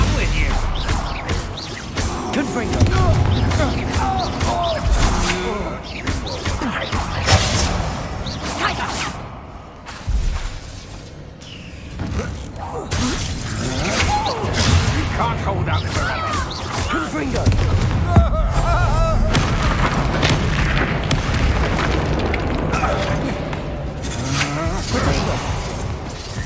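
Confringo explosive spell in Hogwarts Legacy, with repeated booming blasts and whooshing bursts amid continuous crashing combat noise, a voice shouting over the fighting throughout.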